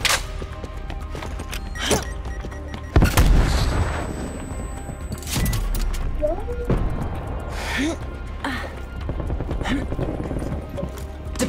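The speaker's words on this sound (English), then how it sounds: "Hostile frag grenade." Frag grenade blasts and gunfire in Call of Duty: Black Ops Cold War, with several sharp booming bursts and one loud heavy blast among scattered shots over a steady battle bed, under in-game voices.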